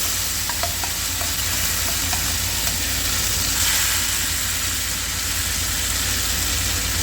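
Prawns coated in batter fry lightly over high flame, producing a loud, dense, continuous sizzle close up that holds steady for the whole stretch.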